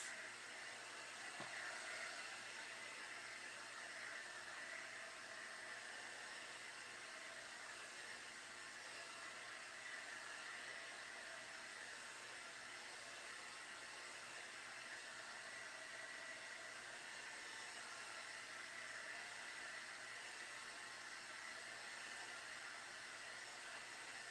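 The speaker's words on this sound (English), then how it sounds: "Heat tool." A handheld heat gun blows hot air over mixed media artwork, a faint, steady whooshing hiss that runs unbroken for the whole stretch.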